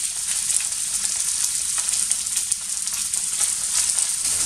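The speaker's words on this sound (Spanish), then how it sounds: "Ahí la vamos a dejar que se cocine un poquito." A savory filling mixture for pasta such as cannelloni or ravioli fries steadily in a pan, giving a continuous bright sizzle and crackle with no talking.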